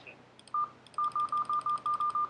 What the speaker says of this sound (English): Should hear a little tone.